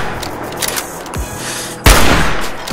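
Gunshots in the video game Fallout 4, a loud burst of gunfire hitting suddenly near the end after a couple of quieter thumps over a steady background din.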